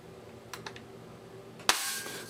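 A Bug-a-salt salt-shooting toy shotgun is worked by hand: a few faint plastic clicks, then one sharp, close pop as it fires, followed by a brief hiss.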